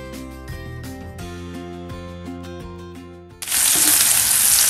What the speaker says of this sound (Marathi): आपला जिरा कढीपत्ता चांगला तळतळलाय. आता आपण कांदा टाकूया बारीक चिरलेला.